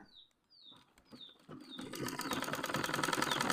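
A sewing machine stitches fabric for simple Hmong trousers, starting after a few short chirping squeaks and settling into a fast, steady mechanical whir that continues to the end, close and fairly quiet.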